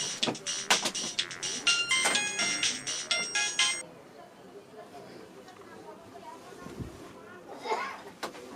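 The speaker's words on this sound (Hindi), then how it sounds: "बउआ के फोन बुझाइए" An electronic phone ringtone plays loudly in a repeating pattern for a few seconds, then stops, leaving quiet room noise with faint children's voices.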